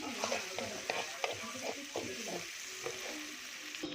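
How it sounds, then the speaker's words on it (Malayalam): Onion and tomato sauté in a pan with a soft frying sizzle, broken by a regular rhythm of spoon scrapes and taps as the mixture is stirred, close and fairly quiet with no talk. "ഞാനിത് ഇവിടെ ഉള്ളിയും ഇത് തക്കാളിയും കൂടെ ഒന്ന് വഴറ്റി എടുക്കുന്നുണ്ട് കേട്ടോ"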